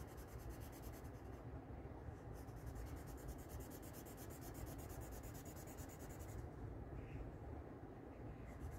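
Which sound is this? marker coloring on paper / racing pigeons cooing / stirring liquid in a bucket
marker coloring on paper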